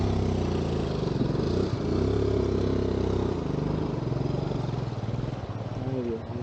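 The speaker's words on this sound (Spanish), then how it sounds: "la dejé mi moto encendida y con la llave" A scrambler motorcycle engine left running near a river crossing, a steady mid-pitched idle with clatter throughout, loud and close, while people talk over it.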